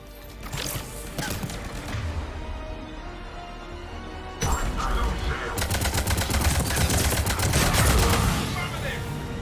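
Cerberus troops fire on the player in Mass Effect 3, with rapid bursts of automatic gunfire, sharp single shots and crashing impacts that swell into a dense, loud barrage, while combat voices call out now and then.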